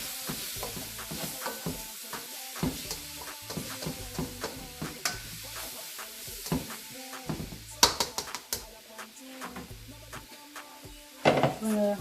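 Green beans and meat cook together in a pan for pancit bihon, with a soft steady sizzle under repeated stirring scrapes and clinks of a utensil against the pan, plus a few louder knocks near the end.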